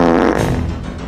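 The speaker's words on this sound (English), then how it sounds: "Excuse the farting." A single loud, close fart lasting about a second, broad and rumbling with a slightly buzzing texture, gradually fading out, with no talk over it.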